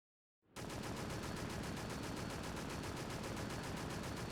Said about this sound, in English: Either there's gunfire happening or the helicopter is very loud.